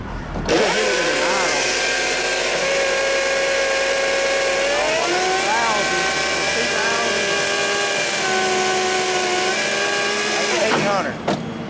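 An engine idles under load, a loud steady droning hum with a few brief pitch wobbles and surges midway, running continuously until it cuts off near the end.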